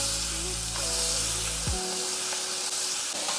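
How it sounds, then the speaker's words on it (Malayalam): Beetroot sautéing in a little coconut oil in a hot kadai gives a steady, close sizzle and hiss that runs throughout, with a low hum that cuts out partway through and no talking. "ഇനി കടായി ചൂടാക്കാൻ വെച്ച് ഒരു 1/4 ടീസ്പൂൺ കോക്കനട്ട് ഓയിൽ ആഡ് ചെയ്യാം. ഇത് നമ്മൾ കട്ട് ചെയ്ത് വെച്ച് ബീട്രൂട്ട് ആഡ് ചെയ്യാം."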